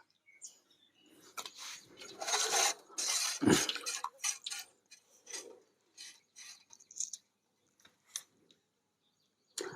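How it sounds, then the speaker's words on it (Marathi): A Vam eel fish is cut up for curry in bursts of close, crisp slicing and scraping strokes, separated by short quiet gaps, with no talking. "तर आता मस्त याला कापून घेतो"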